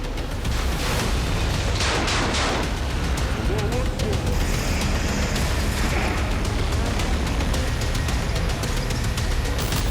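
Rumbling blasts and crackling bursts of bomb explosions destroying a tank, loud and dense, with a voice talking over them throughout.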